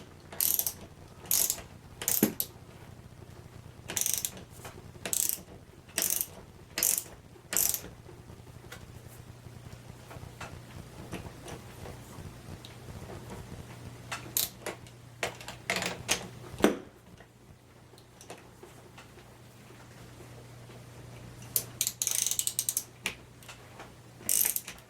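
A socket ratchet wrench turns a bolt on a Cessna aircraft, giving a series of short, close clicking bursts separated by pauses, with a faint steady hum beneath.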